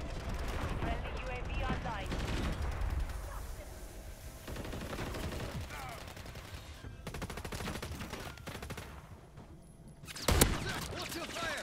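Gunfire in the video game Call of Duty, rapid automatic bursts and scattered shots through a busy firefight, with a louder blast near the end and voices talking over it.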